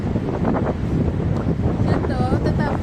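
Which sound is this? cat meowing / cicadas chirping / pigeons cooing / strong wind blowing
strong wind blowing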